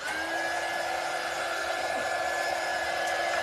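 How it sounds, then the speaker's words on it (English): A hair dryer blows a steady, continuous whoosh with a thin constant whine, running evenly and close by with no voices over it. "let me get my dryer"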